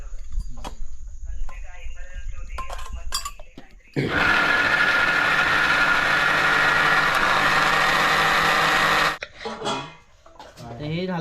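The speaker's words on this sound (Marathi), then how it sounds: "टॉमॅटो मिक्सर लावून घेतोय मस्त त्याची ग्रेव्ही करणार" An electric mixer grinder blends tomatoes with a little chili for a village-style gravy, a loud steady whirring roar for about five seconds, with talk before and after.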